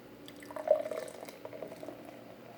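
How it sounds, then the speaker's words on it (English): Bitburger Premium Pilsner beer poured from a tilted can into a glass, a soft steady liquid trickle and gurgle rising briefly then settling into a quieter flow, close by with no talk. "Get that side turn on the can there, so it's not gulping out, and instead just kind of steadily pouring out like it should."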